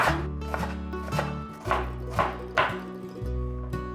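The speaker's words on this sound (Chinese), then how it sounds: "换个方向，把马铃薯切成小丁" Knife chopping potatoes into small dice on a cutting board, a handful of sharp irregular taps spread over a few seconds over a steady low background hum, with no talking.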